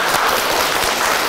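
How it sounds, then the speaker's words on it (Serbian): A children's audience applauding in a library, with dense, steady clapping that fills the whole short moment and has no talk over it. "Idemo jedan aplauz, bravo!"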